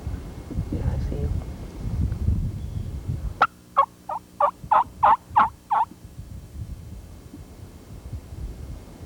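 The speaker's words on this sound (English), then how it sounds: "Listen to Steve soft call this bird right to their position" A wild turkey gobbles in response to soft calls in a spring woodland, a single loud rolling gobble of about seven rapid pulses that stands out clearly over low wind rumble and faint background noise.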